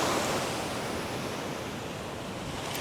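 Sea waves breaking where a river meets the sea, a steady broad rushing wash of surf with some wind noise, close and continuous with no voices.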